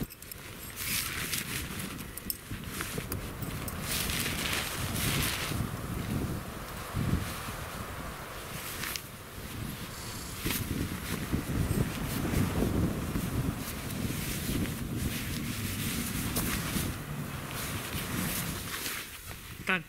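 Steady wind blows and buffets the microphone at a lakeside campsite in Algonquin Park, a constant rushing rumble with occasional stronger gusts.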